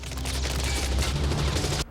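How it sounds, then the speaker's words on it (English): A dense, continuous barrage of movie gunfire roars for about two seconds, then cuts off abruptly. "withstand a barrage of gunfire"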